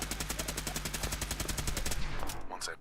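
Rapid automatic gunfire in Fallout, a steady stream of sharp evenly spaced shots that rattles for about two seconds before breaking off into a few scattered sounds.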